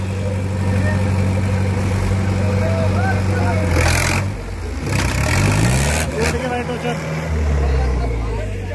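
Tractor engines running during a tractor tug-of-war between a Jahaj 575 and an Arjun 555, a loud steady diesel drone that rises and dips in pitch as the throttle changes, with people talking over it.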